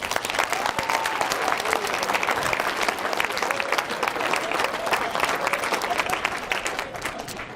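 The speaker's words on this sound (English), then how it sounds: "give yourself a round of applause for that" Graduating students applaud during a student speech, a sustained, loud wash of clapping from a large crowd that holds steady and eases slightly at the end.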